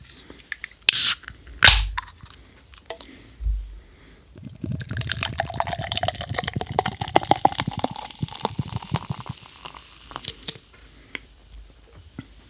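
Death Star barrel-aged beer being cracked open and poured: two sharp cap clicks near the start, then a steady foamy glugging pour that fizzes and trails off, close and clear.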